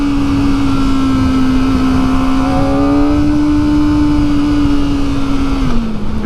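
A 2023 Kawasaki ZX-4RR motorcycle on a test ride, its engine held high in a loud sustained whine, then a quick-shift gear change drops the pitch near the end, with wind noise underneath.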